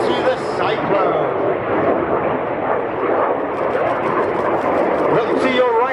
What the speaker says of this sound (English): Aircraft turning hard away from each other, up to 60, turning the Boomerang into the Cyclone.